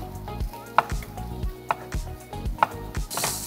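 A sharp knife chops cucumbers, with evenly spaced, crisp strikes recurring about once a second against a soft tonal background.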